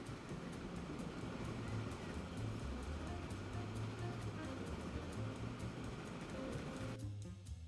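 Riding a train in the game Trains, Planes and Automobiles, a steady rumbling rolling sound with low droning tones, continuous and even before cutting off abruptly near the end.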